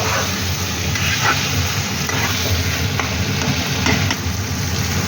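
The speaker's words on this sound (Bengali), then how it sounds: "আলুটা কষানো হয়ে গেছে" Boiled potatoes sautéed in mutton fat in a pan, a loud, continuous close sizzle with occasional stirring scrapes and soft clicks of the spoon.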